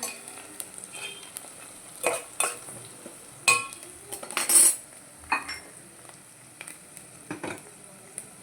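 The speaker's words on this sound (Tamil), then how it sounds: "வெங்காயம் இப்படி தாளிச்சிக்கலாம். கொஞ்சம் ரோஸ் ஆயிடுச்சா நல்லாயிருக்கும்" Onions frying in a pan while a metal spoon stirs them, giving repeated sharp clinks and scrapes against the pan over a light sizzle, close and clear with no talk.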